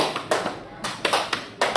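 A class of students in a school literacy session claps on command as part of a clap game, giving three sharp, loud, unison bursts spaced evenly apart with quiet gaps between them.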